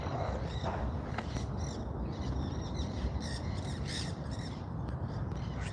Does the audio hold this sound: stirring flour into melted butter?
no